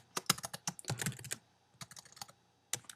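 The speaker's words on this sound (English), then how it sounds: "I can't type very well." Irregular bursts of keystrokes on a computer keyboard while a SAS program is entered, close and clear, with brief pauses between clusters of clicks.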